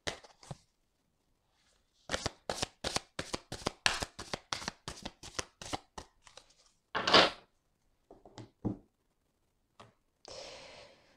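Tarot cards being shuffled by hand, a run of quick crisp riffling flicks, then a longer riffle and a few softer separate card slaps, close and fairly quiet, with no talking.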